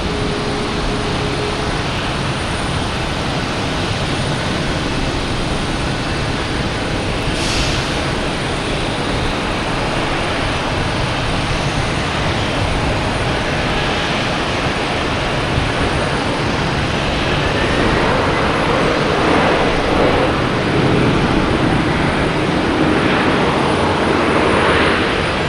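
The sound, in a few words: Icelandair Boeing 767 from Keflavik arriving at Boston Logan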